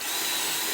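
A power drill spins a bit into material for a jon boat trolling motor mount, giving a brief, steady, high whirring hum at close range.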